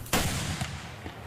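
Detonation wave engine test firing in a tube: one sharp, loud blast goes off at the start, followed by a rumbling roar that decays, with a couple of smaller pops after it.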